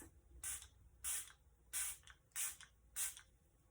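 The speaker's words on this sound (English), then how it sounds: "it has like a really nice fine mist" Five quick, crisp spritzes of a fine mist setting spray onto a face come at an even pace, each a short bright hiss, close and soft.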